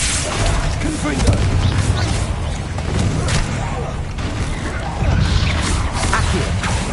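Confringo fire blast from the Hogwarts Legacy video game, a loud booming burst with crashing impacts in a dense, continuous battle mix of spell effects and shouted incantations.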